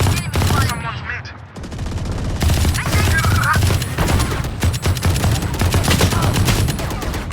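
Rapid bursts of gunfire in an online shooter video game crackle loudly and almost without pause, layered with game effects, while players talk over the action.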